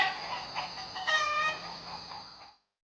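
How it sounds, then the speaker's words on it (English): A farm chicken calls for about two and a half seconds in a close, loud burst of rough clucks that swell into a crowing-like squawk, then cuts off to silence. "Chicken."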